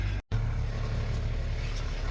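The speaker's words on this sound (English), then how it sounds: "Tractor's on the way." A tractor drives on a farm, giving a steady, low engine drone with a rumbling undertone that continues throughout, interrupted only by a very brief dropout near the start.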